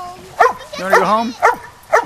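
Dogs bark in short, sharp bursts outdoors among wet leaves, four or five close, loud barks with yelping pitch spaced through the moment; no talk between them.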